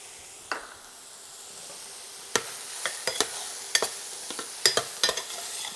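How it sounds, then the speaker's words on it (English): Spices stirred into frying white onion for a barbecue sauce: a steady soft sizzle underneath, broken by a series of sharp scraping clicks from the spoon against the pan, close and moderately loud. "We're gonna add our spices."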